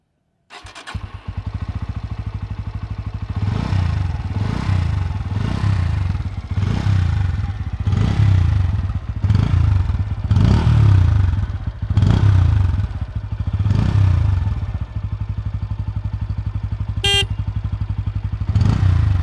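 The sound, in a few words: Bajaj Pulsar N160 motorcycle engine sound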